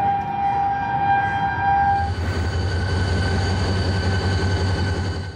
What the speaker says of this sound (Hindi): स्टेशन से कराची सर्कुलर रेलवे चल ही पड़ी